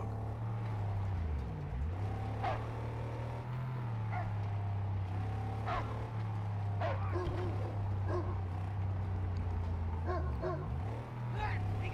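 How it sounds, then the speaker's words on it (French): A dog in the Mad Max video game gives several whining, yipping barks over a constant low engine drone from a vehicle. "c'est pas un aboiement de chien qu'on entend souvent dans les jeux"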